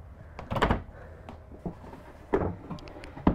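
A drawer in the lower storage of a 2022 Newmar Dutch Star 4328 motorhome is opened and shut, making several close, sharp clunks and knocks with a brief sliding rattle in between.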